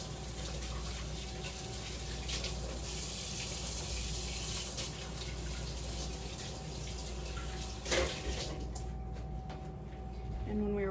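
Tap water runs steadily into a kitchen sink during cleanup of spilled raw egg yolk while baking brown butter chocolate chip cookies, a constant close hiss with faint clinks near the end.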